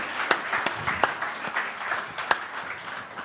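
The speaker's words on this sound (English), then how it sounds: "let's give him a round of applause." A small audience at a legal technology conference applauding, scattered claps with a few sharp individual hits standing out, moderately quiet and steady, with a faint voice underneath.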